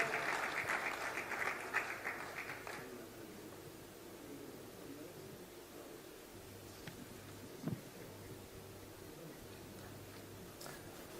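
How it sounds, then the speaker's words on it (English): At the FIBA Congress, an audience applauds Portugal with broad steady clapping that fades after a few seconds into a quieter hall with faint ticking and background noise. "Round of applause for Portugal."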